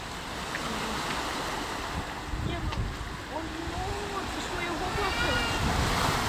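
Sea waves on the Dapeng peninsula coast in China make a steady surf wash under wind noise, with someone talking quietly over it and a rising whoosh near the end.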